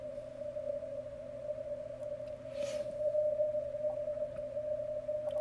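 A steady single tone of a Morse code radio signal hums continuously under light static, narrowed by an audio peak filter, with faint hiss throughout.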